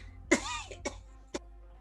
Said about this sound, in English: No, don't cough at me or else we'll really get sick